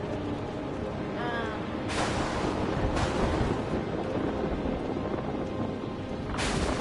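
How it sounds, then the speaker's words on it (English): A thunderstorm in the video game Outlast 2, with a constant loud roar of wind and rain broken by several sharp, sudden thunder cracks. "Storm's getting worse!"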